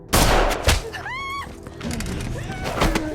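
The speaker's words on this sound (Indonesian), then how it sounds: "Namun tiba-tiba kakek Nick menembak bahu si bodyguard." A gunshot rings out in an action film as an old man shoots a bodyguard in the shoulder: a sharp loud bang opens the scene, a second hit follows, then a ringing whine and further thuds under the dramatic soundtrack.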